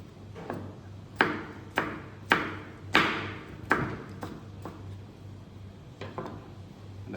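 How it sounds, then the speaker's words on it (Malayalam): A knife chops cucumber into small pieces on a board, giving a close series of about a dozen sharp, irregularly spaced knocks over a faint steady hum. "അപ്പോൾ നമ്മൾ ഇതേപോലെ കുക്കുമ്പർ ചെറിയ കഷ്ണമായിട്ട് നമ്മൾ കട്ട് ചെയ്യാം."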